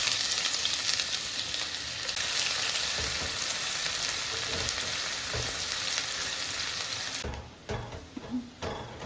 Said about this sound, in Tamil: இதை பொரித்து எடுத்துடலாம்.